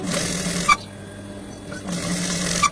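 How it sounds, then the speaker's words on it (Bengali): A sewing machine stitches the hem of a kids' salwar kameez in two close bursts of whirring, separated by a short pause. "দোনো পাশের ফাড়ার অংশ সেলাই করে নেওয়ার পর নিচের অংশে সেলাই করে নিচ্ছি"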